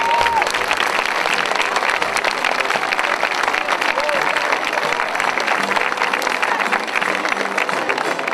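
A crowd applauds at a national parade of traditional Portuguese folk costumes, sustained dense clapping throughout, with a loudspeaker voice speaking over it.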